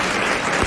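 Studio audience applause on a 1993 French television talk show, a dense steady wash of clapping at constant loudness throughout the short moment.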